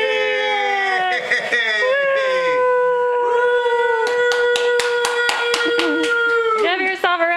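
A short burst of hand clapping for Asher the dog after his first run through a tunnel, with excited voices talking over and around the claps.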